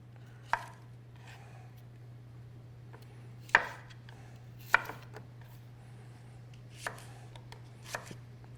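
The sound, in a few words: chopping radishes with a knife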